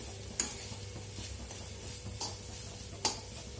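Dried shrimp chutney is sautéed in oil over a low flame, with a quiet, steady sizzle and occasional crisp spatula clicks against the pan, three of them distinct.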